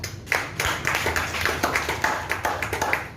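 An audience at a member inauguration ceremony claps hands in quick, uneven bursts, a modest crowd heard fairly close with a slightly hollow room sound.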